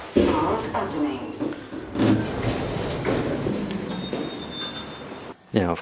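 Modernised lift doors with Dewhurst-made fittings slide open in a car park, a close continuous rumble and rattle with a thin whine, ending in a sharp thud.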